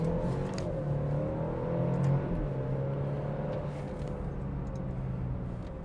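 A 2024 Alfa Romeo Stelvio facelift SUV accelerates hard through paddle-shifted gears, a steady loud engine drone with rising tones and a brief surge around one shift, close and continuous with no talk.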